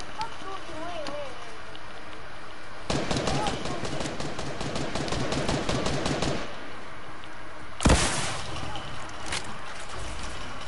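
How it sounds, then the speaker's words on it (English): Video game gunfire in Fortnite rattles out as a sustained rapid burst of automatic shots lasting a few seconds, then a single loud blast and scattered further shots, close and prominent with players chatting over it. "Someone's shooting."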